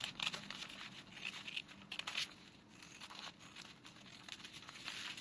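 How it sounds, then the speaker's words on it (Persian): Scissors trim excess paper from a blazer sewing pattern, giving a series of quiet, close crisp snips with crinkling paper rustle between them. "خب حالا اضافات رو قیچی میکنم."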